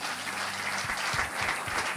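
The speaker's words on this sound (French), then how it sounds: "Acclamez pour vous-même." Church congregation applauding, a soft, steady wash of clapping heard at a distance, with a few low thumps underneath.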